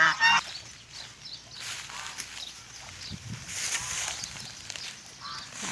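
Ducks honk and quack at a moderate distance, a few calls rising over a low background of movement and faint rustling.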